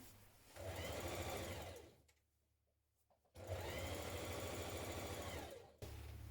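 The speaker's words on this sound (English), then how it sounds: "I'm going to stitch these side seams now" A sewing machine stitches the side seams of a skirt lining in two loud, steady, close runs, separated by a pause of about a second and a half. No one speaks.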